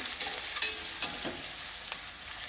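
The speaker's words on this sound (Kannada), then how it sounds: "ಈರುಳ್ಳಿನ ಹಾಕ್ಕೊಳ್ತಾ ಇದ್ದೀನಿ ಇವಾಗ ಇದನ್ನು ಒಂದೆರಡರಿಂದ ಎರಡರಿಂದ ಮೂರು ನಿಮಿಷ ಚೆನ್ನಾಗಿ ಫ್ರೈ ಮಾಡ್ಕೊಳ್ತೀನಿ" Onions fry on medium heat in a pan, giving a steady close sizzle with a few light scrapes and clinks of a spoon stirring through it, with no talking.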